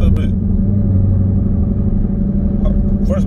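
A Jeep Grand Cherokee Trackhawk engine hums with a steady low rumble as the gas is pressed lightly, loud and close inside the cabin, with a person talking briefly.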